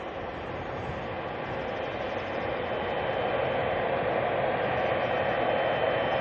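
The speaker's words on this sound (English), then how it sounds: "All right, there's a 777 of Qatar." A Qatar Airways Boeing 777 at Auckland Airport at night gives a steady, loud, broadband jet roar that holds evenly throughout, with no voices.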